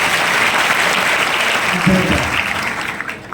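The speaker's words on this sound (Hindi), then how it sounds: "ताली बजाओ भाई इसके लिए" Children at a school prayer assembly clap for a classmate, a dense, steady wash of applause that fills the room. Faint voices sound beneath it near the end.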